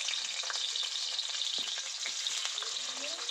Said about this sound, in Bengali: আগে পেঁয়াজটা দিয়ে একটু ভাজা ভাজা করে নেব পেঁয়াজটা।